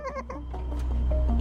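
A man imitates a cat with his voice, giving a few short, close meow-like cries with wavering pitch, followed by more drawn-out, nasal mewing over a low background hum.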